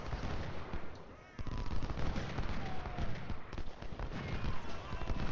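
Musket volleys in an Ultimate General Civil War battle, dense overlapping rattling gunfire crackling continuously with heavy booms and the patter of running troops, loud and close.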